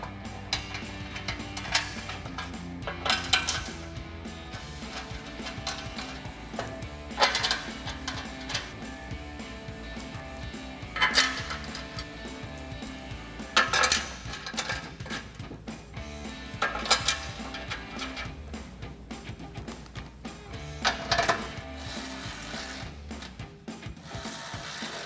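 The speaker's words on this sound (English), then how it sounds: "we'll throw our bolts in and tighten them all down with a 13mm socket" A ratchet with a 13mm socket clicks in repeated rapid bursts while tightening step bar bolts on a RAM 1500, each run of close, crisp pawl clicks separated by brief pauses.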